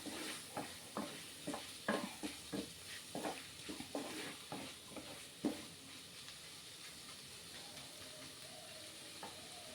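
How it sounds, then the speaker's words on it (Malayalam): Shrimp sautéing with tomatoes in a pan: a spoon scrapes and stirs in a run of quick, fairly close strokes over a soft, continuous sizzle, the stirring fading out and leaving the sizzle alone. "ചെമ്മീൻ ചേർത്ത് നന്നായി ഒന്ന് വഴറ്റിയെടുക്കാം"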